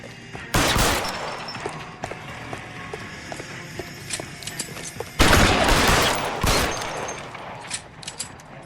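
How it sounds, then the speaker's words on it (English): Shotgun blasts in L.A. Noire: two loud, sharp booms a few seconds apart, each followed by a ringing tail, with quieter scattered clicks and game ambience between them. "He pulled out that shotgun quick."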